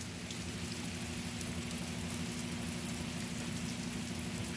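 Light rain falls steadily outdoors as a soft, even hiss with a faint low hum underneath and no voices.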